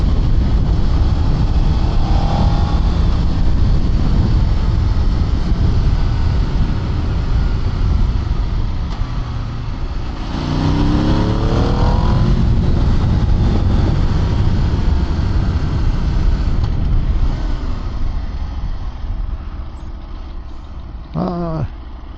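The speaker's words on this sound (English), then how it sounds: "Aprilia RSV4 Factory 2025 with 220 horsepower on this road." An Aprilia RSV4 Factory 2025 superbike with 220 horsepower riding on a road, a loud, constant roar of engine and wind with a few rising revs and shifts partway through.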